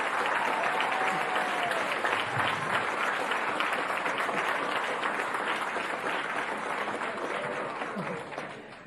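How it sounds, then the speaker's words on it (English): Sustained audience applause honoring a Florida College Plan scholarship award winner at a Palm Beach County event, dense steady clapping throughout that tapers slightly toward the end. "So you already gave her a big round of applause"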